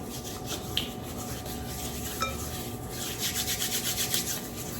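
Two hands rub together to shake off excess flour, making a steady, soft, dry rasping that grows slightly more rhythmic toward the end.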